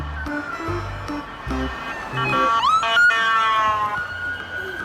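A toy ambulance sounds its electronic siren up close, a bright wailing and sweeping tone over a few low electronic beeps, with no talking.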